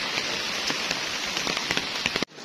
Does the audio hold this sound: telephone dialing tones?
no